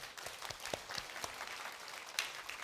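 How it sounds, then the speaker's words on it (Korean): Applause from a church congregation during a Sunday service, faint and sparse clapping heard from a distance, fairly brief and soft. "박수로 이렇게 격려해 주세요"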